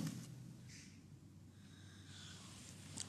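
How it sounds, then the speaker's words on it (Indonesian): A sleeping person snoring, with soft raspy breaths and snorts repeating slowly and faintly against a steady low background hum. "Ngorok lu tuh"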